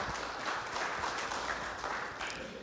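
A community meeting audience at a Shawnee County safety event applauds a sheriff's deputy, with a soft, continuous wash of clapping at a modest, fairly distant level.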